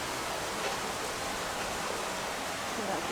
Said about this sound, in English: Where's the water noise coming from?